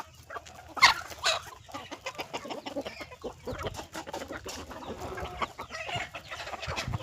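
A farm rooster of a native village breed clucking repeatedly at close range, with other chickens and farmyard noise around it in a busy, steady stretch of sound.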